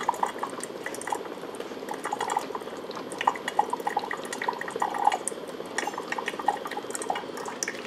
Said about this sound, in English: You can see the KARAFE steaming up, showing that it is a hot water run.